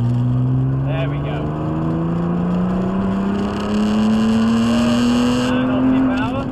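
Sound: supercar accelerating at full power on a race track

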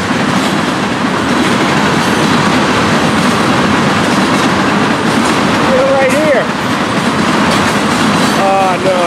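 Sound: freight train passing

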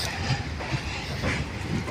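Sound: train passing on railway track

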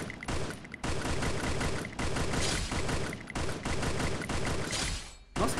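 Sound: gunfire in a video game

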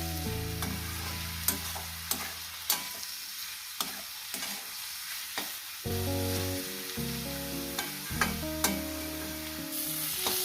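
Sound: onion, garlic and green chili frying in a pan

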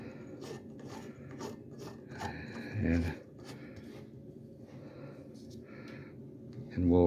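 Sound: incandescent light bulb being screwed into lamp socket

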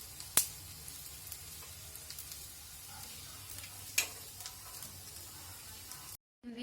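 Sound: kothambir wadi shallow-frying in a pan

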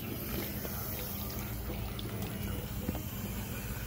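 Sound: rinsing a bathroom with water

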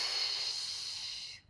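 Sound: breathing in during a Pilates exercise

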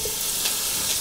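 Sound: sucuk sausage frying in oil in a Dutch oven

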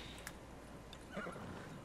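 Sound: horse neighing in a video game

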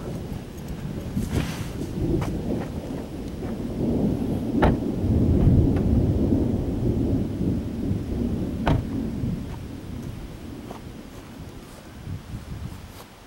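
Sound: severe thunderstorm with thunder and rain

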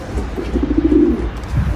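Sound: pigeons cooing

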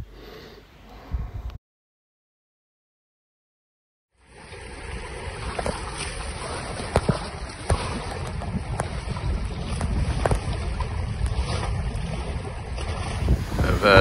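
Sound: sailboat under way in 18 knots of wind

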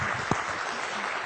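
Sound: audience applause

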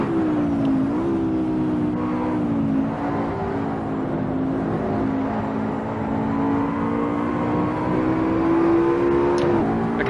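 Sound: race car engine in video game Assetto Corsa

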